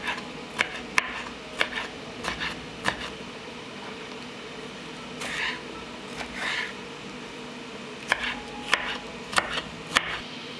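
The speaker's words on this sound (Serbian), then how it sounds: "Iseckala sam crni luk i sada ću iseći jednu crvenu papriku." A knife chops a red pepper into cubes on a board. Sharp, close knocks come in short irregular bursts with a long pause between them, over a faint background hum.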